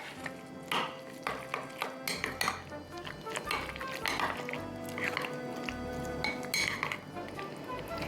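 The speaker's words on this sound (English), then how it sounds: "Give it a little stir." A spoon stirs a smoked trout appetizer in a bowl, giving a run of light clinks and scrapes against the dish, fairly close, with faint background hum and music.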